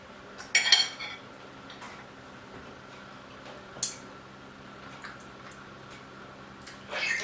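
A knife cuts into a sous vide T-bone steak on a plate, giving a few sharp metallic clinks and scrapes spread across several quiet seconds.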